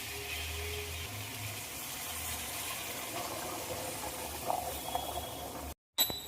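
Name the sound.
hot water poured into mustard fish curry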